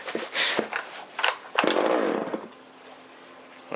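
A Shindaiwa 360 chainsaw that had been sitting unused sputters to life in short bursts, revving loudly a few times before settling into a rough, lower idle up close.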